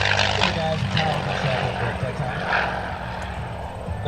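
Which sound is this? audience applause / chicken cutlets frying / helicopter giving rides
helicopter giving rides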